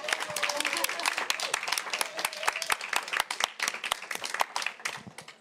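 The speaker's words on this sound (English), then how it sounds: "Actually, a bigger round of applause." A conference audience at a soil health session applauds a farmer-focused speaker, with distinct sharp claps rising into a lively, uneven round that carries through the whole stretch before tapering slightly.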